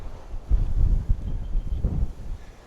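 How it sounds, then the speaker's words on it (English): Gusty wind buffeting a camera microphone outdoors in a winter garden among trees, producing deep, rumbling low thumps that surge in two main bursts, close and muffled, with no talking. "the wind's blowing my camera and me around now"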